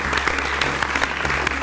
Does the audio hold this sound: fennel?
no